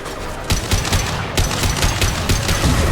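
Rapid bursts of automatic gunfire from the video game Mass Effect 2, dense overlapping shots with sharp cracks continuing throughout without pause.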